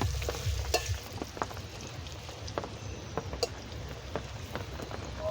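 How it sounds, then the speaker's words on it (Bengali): Potatoes fry in a pan with salt and turmeric while being stirred, a soft steady sizzle broken by intermittent scraping clicks of the spoon, close and fairly quiet. "নুন, হলুদ দিয়ে আলুটা একটু নেড়ে নেব।"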